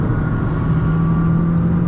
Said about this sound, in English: I'm going to slam down on that accelerator and see how quickly the vehicle reacts